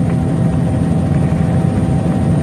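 An aircraft engine drones steadily on approach to land, a loud, dense low roar that stays constant throughout with no voices.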